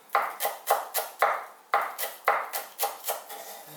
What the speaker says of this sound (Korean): 파를 다져서 넣으세요